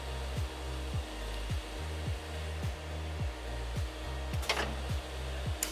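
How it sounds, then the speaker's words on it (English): A Tsugami lathe's main spindle and guide bushing rotate, giving a faint, steady machine hum with regular rhythmic clicks or thumps repeating about twice a second. "So as you can see, you watch the main spindle and guide bushing rotate."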